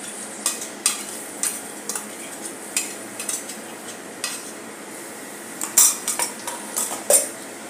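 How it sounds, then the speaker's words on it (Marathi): Onion with green masala paste is sautéed in a pan. A spoon stirs and scrapes it, making irregular metallic clinks and taps over a soft, low frying sizzle, and the clinks cluster more densely near the end. "हे चांगले परतून घेऊ।"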